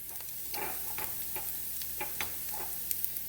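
Garlic sizzling in a frying pan with translucent onions for a red lentil coconut curry: a steady hiss of frying under scattered light clicks and scrapes of stirring.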